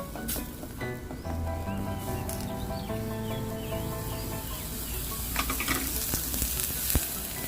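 Coconut cream simmering in a pan for Thai panang beef curry, a soft continuous bubbling sizzle with occasional light crackles, steady and fairly faint throughout, with a few sharp clicks toward the end.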